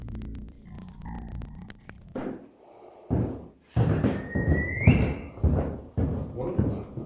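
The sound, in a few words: person whistling in an abandoned asylum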